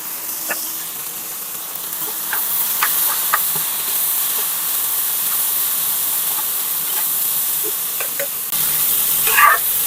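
Small bitter gourd fry stirred in a pan over steady hissing heat, with scattered light clicks and scrapes from the spoon across the ten seconds and a brighter crackle near the end.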